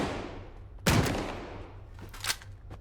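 An AK rifle chambered in 7.62x39 fires in S.T.A.L.K.E.R. 2: one loud, sharp shot rings out and decays, then a second, fainter report follows about a second and a half later.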